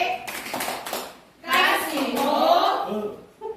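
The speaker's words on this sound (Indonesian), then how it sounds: "Oke, Tepuk wow. Tepuk wow lagi." A group of people, adults and children, clap together in a rhythmic "tepuk wow" clap chant at a school gathering, with bursts of hand claps mixed with chanting voices, fairly close and lively.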